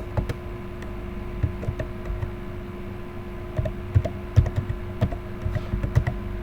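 Keys clicking on a computer keyboard while typing a command to launch Microsoft OneNote, with irregular close taps in short bursts over a steady low hum.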